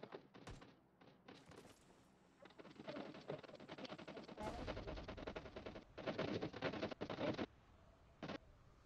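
Bursts of automatic gunfire in PUBG Mobile, rapid volleys of shots in several clusters, fairly close and loud, with no talking.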